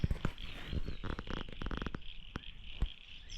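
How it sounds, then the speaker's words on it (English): Faint frogs call from nearby in quick bursts of croaking pulses, with a few sharper clicks scattered among them in quiet woodland at Barraba, New South Wales. "Hear all those frogs"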